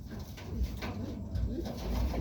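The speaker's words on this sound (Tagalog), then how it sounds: "Ito ang tipler natin mga kalapatids. Umuuwi kahit medyo malayo na." A tippler pigeon that has just flown home coos in soft, low, repeated murmurs close by, over a faint background hum.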